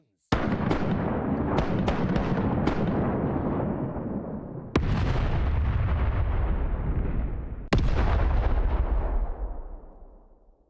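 Rapid ship cannon shots in the pirate video game Rise of Piracy, first a quick string of cracks, then two louder single blasts, each trailing into a long rumble that fades at the end.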